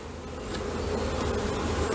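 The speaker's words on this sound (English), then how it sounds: "Hear the bees?" Honey bees buzz in an open hive, a dense, continuous low drone that swells slightly in loudness, close by with no talking.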